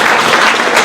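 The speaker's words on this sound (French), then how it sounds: "On applaudit Canel." Brief burst of dense audience applause at a town ceremony celebrating young graduates in Vieux-Habitants, loud and continuous for under a second.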